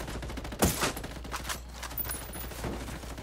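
Burst of gunfire from the co-op shooter game Ghost Recon Wildlands, a sharp loud crack followed by a few weaker shots over steady game ambience.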